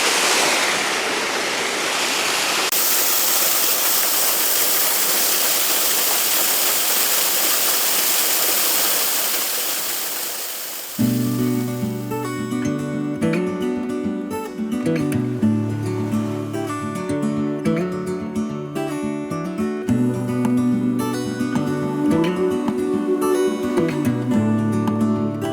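Rushing water pours over rock shelves at a waterfall in Rocky Mountain National Park, a steady broadband roar that fills the first half before layered music takes over and the falls continue faintly beneath it.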